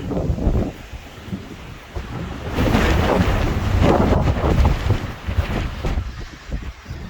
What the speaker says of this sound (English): Still battling with this wind head on at the moment, so it is quite draining.